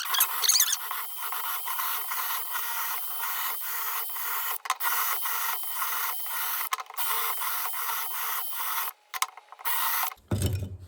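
A drill boring holes through soft fire brick, a continuous grinding rasp that cuts out briefly several times as the bit stops and restarts, close and fairly loud.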